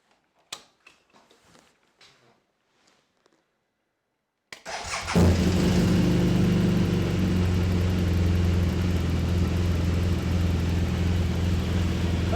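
A 2013 BMW R1200GS motorcycle with its stock muffler starts after a few faint clicks, then settles into a steady, loud, close idle with a deep exhaust rumble and no talking.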